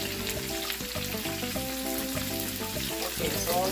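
Vegetables with jalapeño peppers fry in a pan for a Caribbean-style stir-fry, giving a steady crackling sizzle that stays loud throughout, with a low musical backing underneath.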